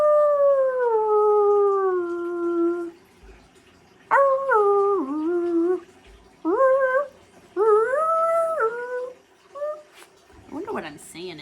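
A Cisco von Schnitzel dachshund lets out long, wavering howls, one sustained howl followed by several shorter rising and falling ones with brief pauses, loud and close.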